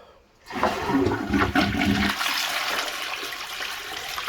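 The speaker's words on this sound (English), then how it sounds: "so we're going to flush the toilet now" Toilet flushed after cleaning with an acidic toilet bowl cleaner: a sudden loud rush of water after a brief quiet, swirling and then settling into a steady refilling hiss.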